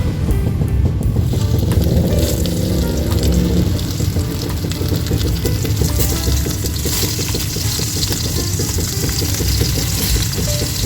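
Tawilis fish fry in hot oil with a loud, steady bubbling sizzle that fills the whole stretch, close and continuous without talk.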